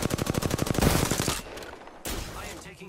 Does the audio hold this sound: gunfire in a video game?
yes